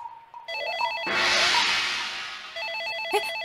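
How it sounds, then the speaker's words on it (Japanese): A telephone rings in a PS2 video game, giving a warbling electronic ring in repeated bursts with a dense noisy swell in the middle, at moderate volume with no speech. "あ、電話だ。 電話だ。"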